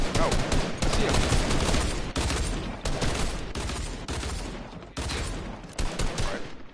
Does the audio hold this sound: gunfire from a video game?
yes